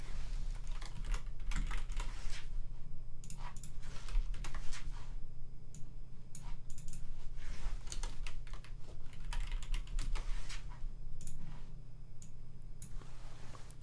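Steady typing on a computer keyboard as a name is written down, irregular bursts of keystrokes continuing alone at close range over a low constant hum.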